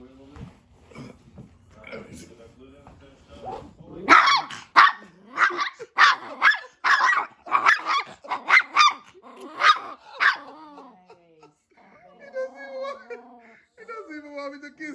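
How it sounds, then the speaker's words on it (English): A possessive dog barks in a rapid, loud run of repeated barks, close by, with someone talking and laughing before and a person's voice underneath afterward. "Crazy demon dog."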